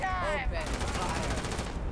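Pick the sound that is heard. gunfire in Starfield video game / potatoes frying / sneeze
gunfire in Starfield video game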